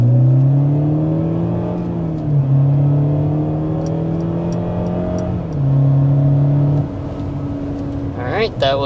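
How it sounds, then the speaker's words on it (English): A 2026 Mercedes GLE 350 accelerating hard: the engine note climbs steadily, drops at each upshift and climbs again, a loud continuous whine heard from inside the cabin, with a brief faint noise near the end. "start with a hard acceleration so you can see what the powertrain experience is like"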